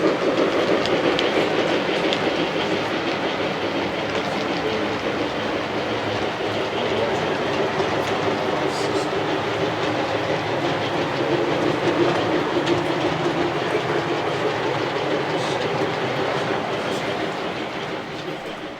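A model train works steadily up a long 3.5% mountain grade, a continuous rolling rumble with rhythmic clickety-clack of wheels on rail joints, holding near and even throughout before easing slightly at the end.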